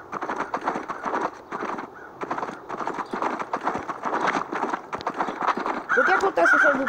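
Video game horse hooves gallop in a rapid clip-clop rhythm throughout, with a whinny and brighter effects near the end, mixed with game sounds and some voices.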